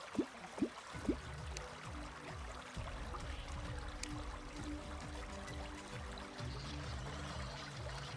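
Water pumps in Terraria pour water in a steady, continuous low rush, with a few sharp clicks near the start, then a constant moderate stream with no talking.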